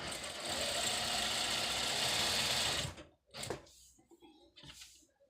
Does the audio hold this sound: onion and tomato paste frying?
no